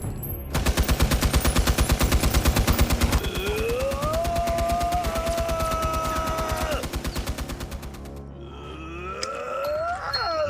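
Gunfire in the video game Sintopia: a rapid, loud, rhythmic machine-gun burst runs for about eight seconds under rising electronic tones, then breaks off into a clattering, swelling sound effect.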